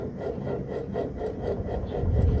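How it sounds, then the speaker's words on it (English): Grease being scraped off the intake area of a 1967 Chevrolet C-10 engine during an intake teardown, a steady rasping scrape repeating in short strokes about twice a second, close and moderately loud with no talking. "Go ahead and scrape some more grease off of here while I have it."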